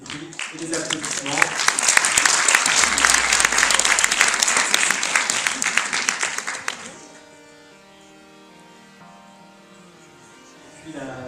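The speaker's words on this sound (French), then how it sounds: "des cris et des applaudissements." A crowd at a science competition final cheers and applauds loudly for about seven seconds, dense clapping and shouts, then fades into quiet background music.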